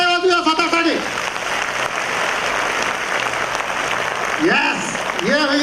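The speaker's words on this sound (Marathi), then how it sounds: "जोरात टाळ्या वाजवूया स्वतःसाठी." Workshop audience on a natural farming course clapping loudly together, a dense, sustained burst of applause with a speaker's voice talking over the start and end.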